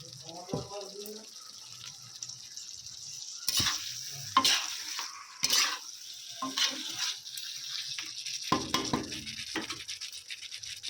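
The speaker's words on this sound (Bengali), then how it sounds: "মশলার সঙ্গে আমি মটনটাকে কিন্তু খুব ভালো করে কষিয়ে নেব" Mutton with spices sautés in a pan with a soft sizzle, broken by several loud bursts of stirring and scraping, with a voice speaking at times.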